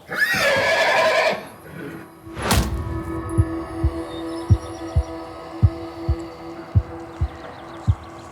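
A horse neighs loudly and close by, with a second sharp whinny or snort following, and then a slow, steady low thumping like a heartbeat sets in over a soft hum.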